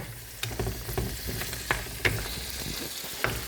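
Scampi simmering in a pan for a seafood cassolette, a close, moderate sizzle with scattered pops and light stirring clicks, no voices.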